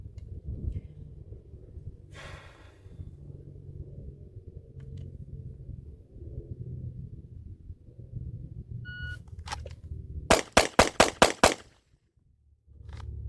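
Six rapid pistol shots from a Ruger Max-9 fitted with a Galloway Precision short-stroke trigger, crisp and loud in a quick even string after a few faint clicks, followed by near silence.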